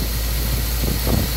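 A car engine fitted with a Holley carburetor idles at roughly 800 RPM, giving a steady, even low rumble that holds close and constant throughout without breaks.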